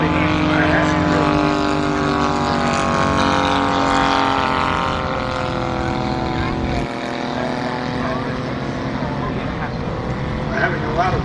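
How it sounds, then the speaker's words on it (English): Multi-cylinder engine of a giant scale Waco model airplane runs steadily and loudly at an airshow for the whole stretch, its droning harmonics rising and falling slightly, with voices talking over it. "I'm having a lot of fun with multi-cylinder engines this morning."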